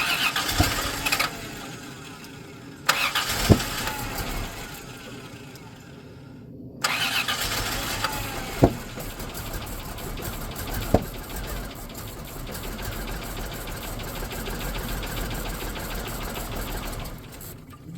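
A 1993 Plymouth Grand Voyager SE engine, brought back after 18 years, turning over and catching in rough sputtering bursts, then settling into an uneven idle with occasional knocks and clicks nearby.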